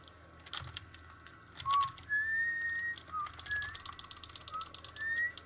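Someone whistles a few short, clear notes over quick mechanical clicking and tapping, like keys or a ratchet, close by, during video game tower construction.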